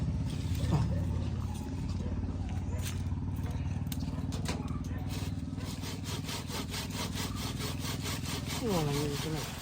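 A pruning saw cuts through a ber apple tree branch in quick, rhythmic back-and-forth strokes, close and rasping, with a brief creak as the wood shifts near the end.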